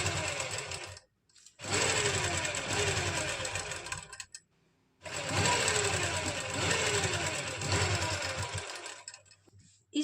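An electric sewing machine stitches a kurti neckline in two long, fast bursts of rapid mechanical whirring and needle chatter, close and loud, separated by brief pauses with the motor stopping.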